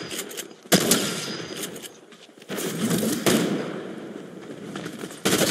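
Loud, sharp bursts of weapon gunfire in the Fortnite video game, several rapid volleys separated by brief pauses and heard up close.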